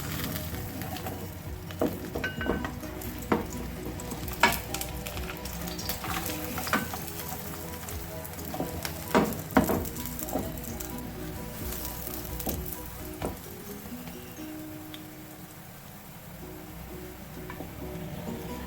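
Gram flour (besan) roti cooking on a pan over low heat gives a steady, close sizzle and frying crackle, with occasional soft clicks of a utensil turning and stirring it.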